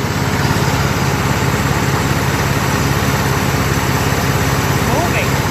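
A Craftsman lawn tractor with a 16.5 HP Kohler engine runs at a steady, loud, unbroken drone close by, with no change in pitch and no talking over it.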